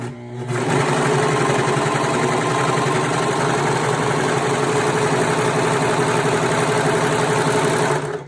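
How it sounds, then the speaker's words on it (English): A serger sewing machine with a built-in cutting blade runs steadily and loudly for several seconds while stitching a car trash bag, a dense rapid mechanical whir that starts abruptly and holds an even rhythm. "That's the beautiful thing about a serger, is that it has that nice little blade on there."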